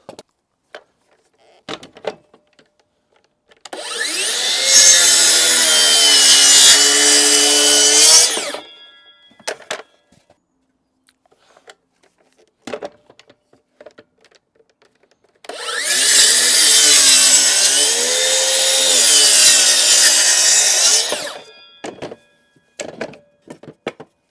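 A power saw cuts through a piece of plywood in two long, loud passes, each several seconds of steady whining buzz, with quiet knocks and handling sounds between them.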